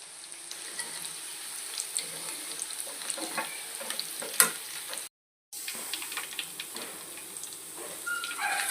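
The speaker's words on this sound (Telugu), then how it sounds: "మీడియంలో పెట్టుకుని బాగా ఫ్రై చేసుకుందామండి" Chicken pakoda deep frying in hot oil on medium heat, a steady close sizzle and bubbling with small crackles and pops throughout, broken by a brief moment of silence.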